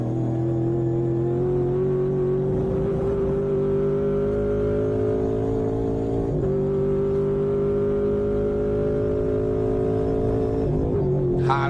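A Mustang race car at Queensland Raceway drives down the backstretch, its engine note climbing steadily through the gears in long, smooth pulls with a brief shift dip, sustained and fairly close from onboard, no talking.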